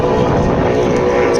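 A racing speedboat powered by a 5-litre Holden engine, capped at 5.2 litres, roars past on the Manning River in New South Wales, a loud, steady, high-revving drone with no voices.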